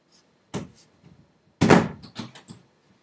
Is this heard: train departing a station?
no